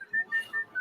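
Someone whistles four short, clear, high notes in a quick even rhythm, close and alone.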